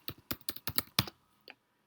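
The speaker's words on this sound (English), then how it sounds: "you are typing a search term" A search term typed on a computer keyboard: six crisp, evenly spaced key clicks in a steady rhythm, then a lone softer tap after a pause, close and clear in a quiet room.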